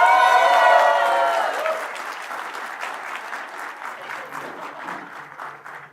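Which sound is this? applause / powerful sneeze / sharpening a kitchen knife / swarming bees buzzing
applause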